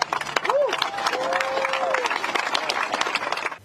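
Fans clapping at a Michael Jackson memorial, dense applause from a crowd, steady throughout, with a voice speaking over it.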